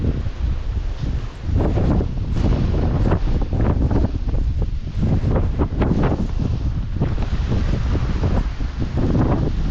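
Strong wind roars and buffets continuously against the microphone during rain on a motorcycle ride at Malshej, a loud, rough rushing with gusty surges throughout.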